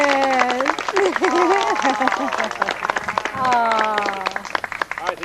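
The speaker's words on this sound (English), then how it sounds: "Let's just say a big applause and thanks to Etta for all of this that's happened here" Party guests at a 50th birthday celebration clap together, a dense patter of applause running under overlapping voices and chatter, with someone speaking prominently over the crowd throughout.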